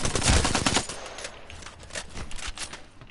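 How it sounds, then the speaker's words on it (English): Rapid automatic fire from the Alternator SMG in Apex Legends, a dense burst of close, loud shots that spreads out and thins over about three seconds. "How much does one mag do with an alternator?"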